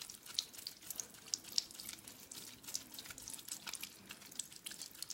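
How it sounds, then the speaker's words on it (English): Tap water runs steadily into a sink while makeup brushes are rinsed under it, with sudsy splashes and drips pattering irregularly, close and fairly loud, no voices. "Look at all that junk just rinsing down the drain."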